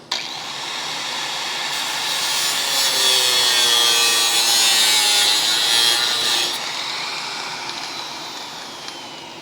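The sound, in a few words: cutting a section out of car body metal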